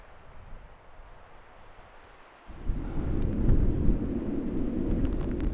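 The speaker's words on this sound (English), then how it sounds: "Well, there's the rain." Rain and thunder during truck camping in an Arizona national forest: a soft patter gives way to a sudden deep rumbling roar that swells and holds, loud and close, with rain hissing underneath.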